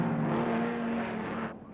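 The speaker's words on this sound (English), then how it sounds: "Goss goes past. Car sounding rough." A 1973 Bathurst 1000 touring car roars past continuously with a rough, uneven engine note that fades slightly near the end, with no talking over it.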